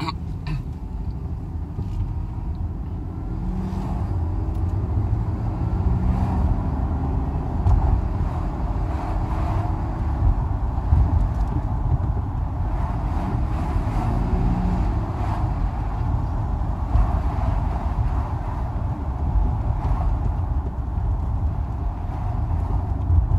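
A Mercedes SL600 drives along during a throttle body test, its engine a steady low rumble with road noise that holds evenly throughout, continuous and fairly close.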